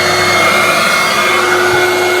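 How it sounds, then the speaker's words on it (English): The vacuum motors of an Ashbys Enforcer 600 psi V2 SteamMate carpet cleaning machine run with a loud, steady, high-pitched whine and a constant airy roar throughout, close by and unbroken. "So let's just switch on the vacuum motors."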